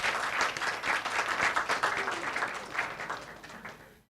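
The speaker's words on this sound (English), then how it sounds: "please give another round of applause to" Warm, sustained applause from the crowd at an engineering society's monthly technical meeting in Thailand, a steady dense wash of clapping that gradually thins and fades out before cutting to silence.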